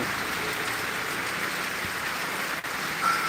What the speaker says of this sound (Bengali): বৃষ্টির সাথে জোরে হাওয়া বইছে